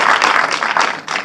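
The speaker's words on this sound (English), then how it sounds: "You can give them a round of applause." Studio audience applause on a Nigerian television quiz show, a dense burst of clapping that swells in waves before tapering off.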